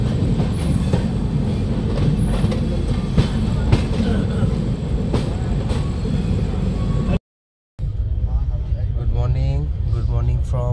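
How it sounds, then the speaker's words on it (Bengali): The Gurumukhi Express, a superfast train from Kolkata to Ambala, runs past Kashi station with a loud, continuous rumble and rhythmic wheel clatter heard from on board. After a brief dropout, a voice talks over the rolling noise. "কাশি স্টেশনের পাশ থেকে আমাদের ট্রেন যাচ্ছে।"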